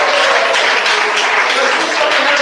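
Clapping from a church congregation during a worship service, a steady wash of many hands sustained throughout, with voices mixed in underneath.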